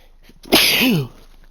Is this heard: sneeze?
yes